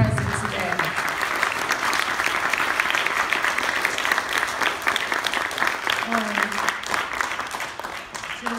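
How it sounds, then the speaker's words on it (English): At a poetry performance at the Philadelphia Art Museum, an audience applauds in a sustained, fairly loud round of clapping lasting over eight seconds, with some voices mixed in beneath it. "Please give all of yourselves a round of applause for being present today."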